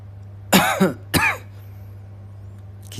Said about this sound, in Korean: 기침이 좀 나네요.